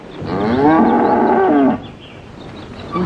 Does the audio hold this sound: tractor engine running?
no